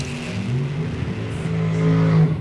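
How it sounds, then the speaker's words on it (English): A condensed dragster engine at a drag race roars steadily and loudly, its tone climbing slightly as it builds toward the end, with no talk over it. "Willie's sporting a new condensed version of a dragster"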